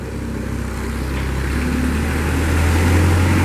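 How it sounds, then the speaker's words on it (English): A Moffett piggyback truck-mounted forklift drives around a storage building. Its engine gives a loud, steady drone and a low rumble that builds a little, with no talking. "Now we'll drive it around the storage building here and show you how nice everything runs"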